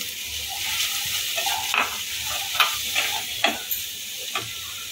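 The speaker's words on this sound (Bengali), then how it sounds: "এটা আবার একটুখানি ভালো করে নেড়ে চেড়ে নেব।" Ginger garlic paste frying in a pan while being stirred, cooked for a Bengali fish ball recipe: a steady sizzle with repeated scraping and tapping strokes of the spoon against the pan, close and fairly loud, with no talk.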